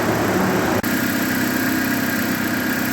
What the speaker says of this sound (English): The fans just kicked on to high speed.